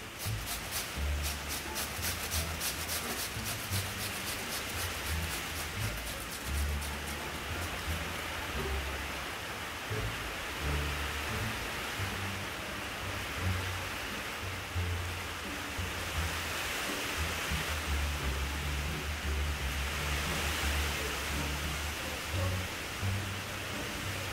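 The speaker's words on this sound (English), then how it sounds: "Can you guys hear how it's raining?" Steady rain pours down in a continuous, even hiss with a low rumble beneath, no voices present.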